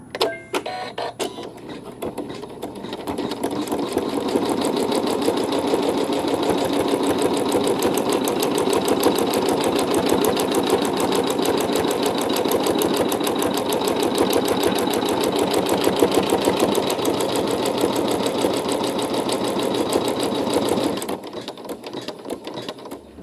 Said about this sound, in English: then after that it does the main tack down around that entire section that we just sewed on there